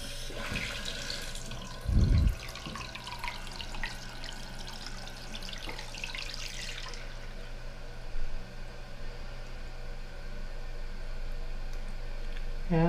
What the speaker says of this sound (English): Now let's turn the water back on.